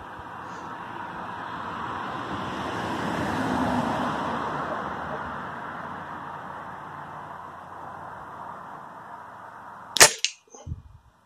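A spring air rifle fires once at a target 35 yards away, with a single sharp crack near the end after a long stretch of steady outdoor hiss.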